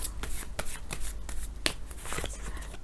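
Tarot cards being shuffled by hand, a dense run of crisp riffling flicks and slaps that keeps going without a break, close and clear with no talking over it.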